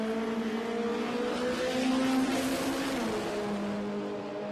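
Front-engine dragster on a drag strip, a loud sustained engine roar holding steady across the run with a rising pitch mid-way, close and continuous with no voices.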